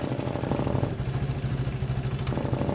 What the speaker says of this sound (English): I'm going to let it run and idle for a good 10 minutes